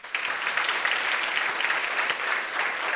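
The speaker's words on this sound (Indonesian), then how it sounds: "Tepuk tangan semua" Steady applause from a seated audience at a talk session, dense clapping continuing evenly throughout at moderate loudness with no voices over it.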